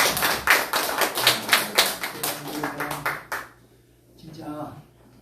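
A church congregation at a Sunday daytime service claps in greeting, giving about a dozen loud, fairly even claps in a steady rhythm that stop abruptly, followed by faint talk.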